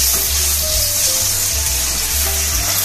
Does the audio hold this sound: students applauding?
no